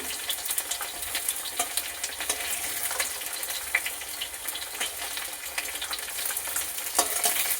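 Potato pieces frying in hot oil in a pan for a drumstick fish curry, a steady close crackling sizzle with small pops throughout, no voices.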